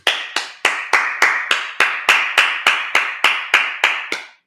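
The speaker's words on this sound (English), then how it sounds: "Let's clap it up." A congregation at a Sabbath service claps in unison, about fourteen sharp, evenly spaced claps at a steady moderate tempo, bright and close, ending cleanly with no talking.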